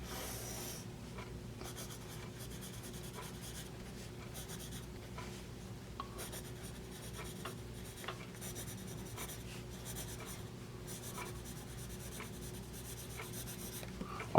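A vintage Blaisdell Bola Score bowling scoring pencil writing steadily on paper, a soft continuous scratching with small strokes and taps, close and quiet, with no talking.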